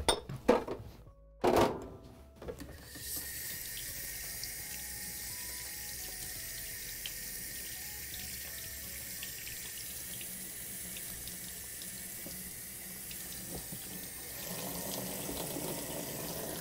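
After a couple of brief clatters, tap water runs steadily into a kitchen sink for a soapy soak, a continuous close splashing rush that carries on with no one speaking.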